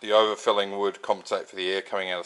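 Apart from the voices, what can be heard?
No everyday noises stand out.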